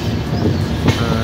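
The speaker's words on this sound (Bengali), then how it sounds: "দেখো আমাদের ট্রেন ঢুকছে উধমপুর" Uttar Sampark Kranti Express pulling into Udhampur station, a station set among hills: a steady, loud rumble of the moving train with rail noise and some wind buffeting, continuous throughout.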